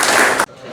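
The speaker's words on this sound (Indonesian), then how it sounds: "Ya, tepuk tangan buat Setia." A class briefly claps for a student during a lesson: a short, loud burst of hands that cuts off abruptly after about half a second, leaving quiet room tone.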